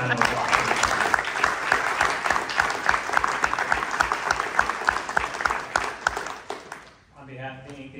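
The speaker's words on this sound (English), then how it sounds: "So let's give them a nice round of applause." Audience at a candidate forum for House Districts 40, 41 and 42, hosted by a chamber of commerce, gives a loud, sustained round of applause that fades near the end as a voice begins speaking.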